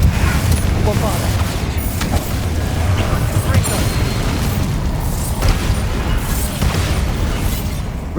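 Repeated Bombarda blasting-spell explosions in the Hogwarts Legacy video game on PC, loud booming bursts over a dense, busy battle din, with brief spoken spell callouts.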